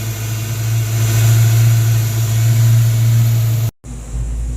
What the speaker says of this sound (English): It idled at 1400 and then shut off.